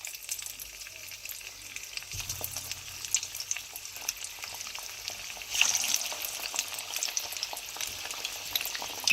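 Boiled mutton chops frying in hot oil in a small wok over a medium flame, a quiet, steady crackling sizzle that grows louder and busier midway as more pieces hit the oil.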